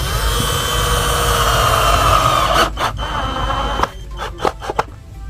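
A power drill bores a hole through the centre of a small cut piece, a loud steady whine and hum that breaks into several short bursts and stops near the end.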